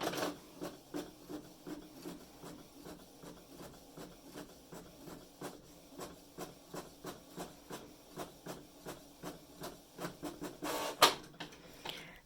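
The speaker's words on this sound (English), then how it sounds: "go over to your printer and print the first page" A home printer printing the first page of a booklet runs with a steady, evenly spaced rhythmic clatter and hiss, close and moderately quiet, with a louder burst near the end.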